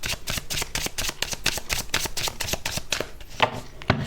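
Tarot cards are shuffled by hand in quick, steady riffling flicks close by, followed by a couple of sharper snaps as cards are drawn.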